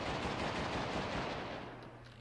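Celebratory gunfire is shot into the air in the video game GUN, a loud, dense burst of rapid shots that runs without a break and tails off slightly at the end.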